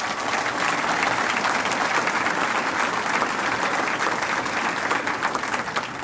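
Steady, dense applause from a large audience at an Indiana Hoosiers event at Huber Winery, continuous clapping without a break, loud and sustained throughout.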